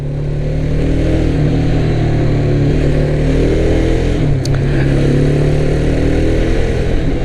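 A 2021 Mahindra Mojo 300 ABS BS6 motorcycle engine runs loud and close, holding a steady throttled drone with slight pitch shifts and a brief dip midway, with no voices.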